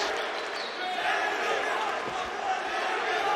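A fight-night crowd at Orça Fight Club roars and chants for the fighter Cengiz in a dense, continuous wall of voices, loud and close throughout.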